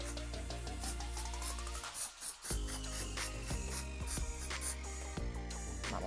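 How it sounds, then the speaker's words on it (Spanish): Tin cans are coated from a spray paint can, a close, sustained hissing spray that runs almost continuously with one brief break, mixed with rubbing and shuffling noises as the cans are handled, with no voices. "vamos a comenzar pintando nuestras laticas. Entonces, recuerden hacerla a una distancia moderada."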